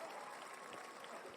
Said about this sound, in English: Cue up the cheer and cue it up.